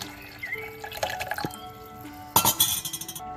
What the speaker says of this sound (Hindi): अब तो मैं इसमें ऐड करूँगी दाल का पानी।